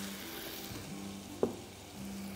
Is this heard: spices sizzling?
yes